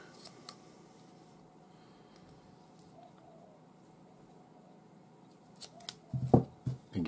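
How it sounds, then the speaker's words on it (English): Scissors snip off the excess cord ends of a handmade West Country whipping bracelet, a few quick close cuts near the end after a quiet stretch. "I can cut off these excess ends"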